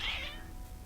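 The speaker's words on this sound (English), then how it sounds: "Meow." A single short cat meow from a video game character, close and clear, fading quickly with nothing else around it.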